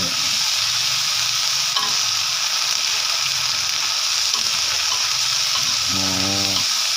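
Mang kok insects and their eggs fry in hot oil, giving a loud, dense, steady sizzle with a few soft clinks and scrapes of stirring; no one speaks.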